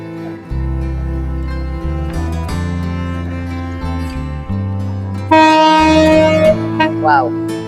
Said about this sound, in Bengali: এই ছেড়ে দিল ট্রেন।